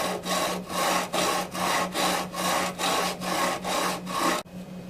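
A small sanding block rubs back and forth over the frets of a Fender Eric Clapton Stratocaster, about nine steady, loud rasping strokes in an even rhythm before it stops abruptly.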